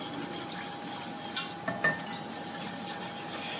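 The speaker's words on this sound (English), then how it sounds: "So we're just gonna mix this until it starts to thicken." Béchamel sauce seasoned with white pepper being stirred in a pot, a spoon scraping and tapping lightly against the metal with a low steady background hiss, a few brief clinks, close and fairly quiet.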